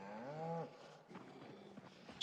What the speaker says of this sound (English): Sheep and a cow, it sounds like.